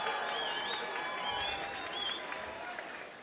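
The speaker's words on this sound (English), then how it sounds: "Let's have a round of applause for these warriors." A crowd applauds and cheers for Muay Thai fighters at a Hitman Fight League event, a steady wash of clapping with some whistling tones on top, moderately loud and sustained throughout.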